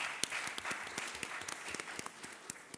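An audience applauds at an oil and gas conference, producing a steady patter of many hands clapping for about three seconds, fairly close and alone without talk.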